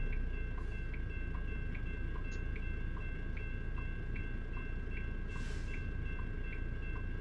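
A steady rumbling video game train passes with a rhythmic clicking over the rails, accompanied by a continuous high ringing tone; no voices.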